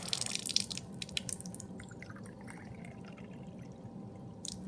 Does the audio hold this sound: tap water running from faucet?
yes